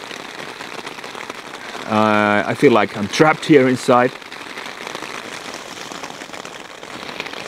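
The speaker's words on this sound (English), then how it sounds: "It's raining cats and dogs." Heavy rain drums steadily on a tent during a snowy winter camp, a constant close patter that runs throughout, briefly under someone speaking in the middle.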